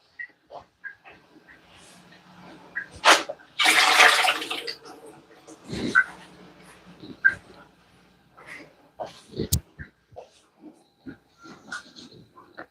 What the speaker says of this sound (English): I'm just going to pour this water off real quick at the sink.